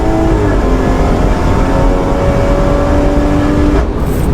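A 510bhp BMW M240i with a big rear wing pulls hard in third gear on a race track, its engine note a loud sustained drone that climbs steadily before easing off near the end, with no talk.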